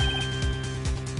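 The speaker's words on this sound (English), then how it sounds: "I heard a phone ring just now." A ringing phone with a flanged, warbling ringtone sounds in a crime-solving game scene, its repeating electronic tone pulsing steadily and fairly loud for just over a second, with no talk.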